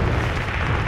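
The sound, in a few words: gunfire shooting at the player in a video game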